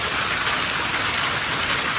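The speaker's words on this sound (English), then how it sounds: "the ice chunks rained down on cars and broke through the Home Depot skylight" Hail of ice chunks pounds down on parked cars and a store skylight during a brutal storm, a loud, dense, unbroken roar of countless rapid impacts with no voices.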